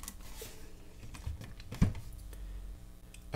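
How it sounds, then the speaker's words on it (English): Hitachi 12 volt lithium-ion battery pack being handled, with small plastic clicks and taps, one sharper click standing out among quieter rustling and handling noises, close and fairly faint. "this one here, if you can hear it, it just clicked in"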